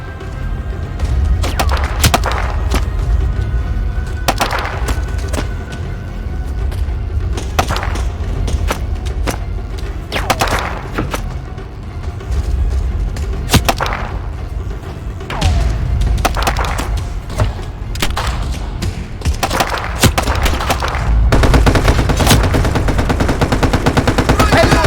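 Rapid machine-gun bursts and heavy gunshots rattle without pause through a World War II tank battle against Soviet forces in the VR game Wanderer, with dull thuds and booms of explosions mixed in, loud and close throughout.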